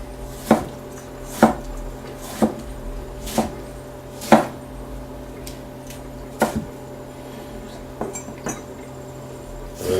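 Knife chopping tongue on a cutting board for tacos: about a dozen sharp, separate thuds at uneven intervals, close and clear over a steady low kitchen hum.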